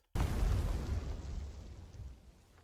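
A single explosion in the video game Star Wars Outlaws hits suddenly with a loud, deep boom, then its rumbling roar slowly fades over the next two seconds.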